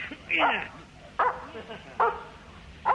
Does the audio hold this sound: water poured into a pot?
no